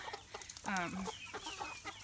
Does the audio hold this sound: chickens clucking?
yes